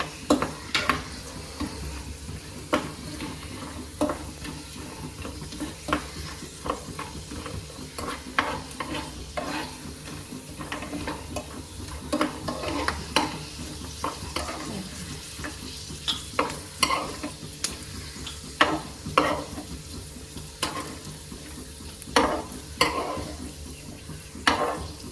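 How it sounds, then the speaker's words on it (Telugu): Coconut pieces frying in oil in a pan, a continuous soft sizzle broken by frequent scraping and clinking strokes of a spoon as the pieces are stirred, close and without talk. "దీంట్లోనే కొబ్బరి ముక్కలు వేపేస్తానండి."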